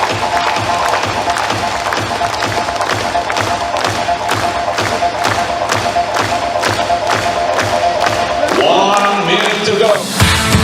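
Arena crowd at a judo Grand Slam finals in Ulaanbaatar clapping in a steady rhythmic beat, loud and sustained, with cheering and shouts rising near the end.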